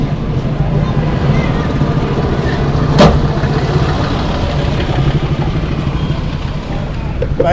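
A car engine hums steadily while being driven along a road in Brikama, Gambia, with road rumble and one brief sharp knock partway through.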